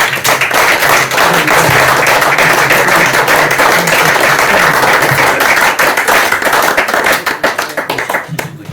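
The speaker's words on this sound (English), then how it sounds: "always give them a round of applause" Supporters give a round of applause at a football team talk gathering, steady dense clapping lasting several seconds before thinning toward the end, close and fairly loud.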